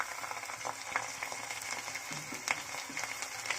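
Garlic and ginger paste frying in a pan, a steady broadband sizzle with occasional soft scrapes as it is stirred, moderately loud and close, with no talking.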